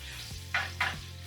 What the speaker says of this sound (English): Our garlic is sizzling.